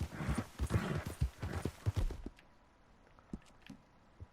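Horse hooves clopping in Red Dead Redemption 2: a loud run of close, rhythmic clip-clop steps for about two seconds, then a few faint, sparse hoofbeats trailing off.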